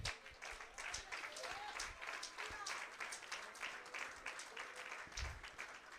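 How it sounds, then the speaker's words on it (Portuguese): Church congregation applauding during a sermon, a faint, distant wash of clapping with low thumps and a voice briefly rising over it. "Aplauda ao Senhor."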